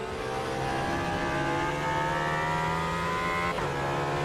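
A race car engine in the RaceRoom sim revs hard through rising gears, its steady whining tones climbing in pitch with a brief shift near the end, loud and close with no talking.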